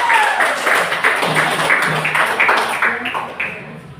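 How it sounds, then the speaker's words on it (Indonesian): A classroom group claps for the first group during a Christian religious education class, short irregular hand claps with voices speaking amid them, fading toward the end. "Ya, tepuk tangan dulu untuk kelompok 1."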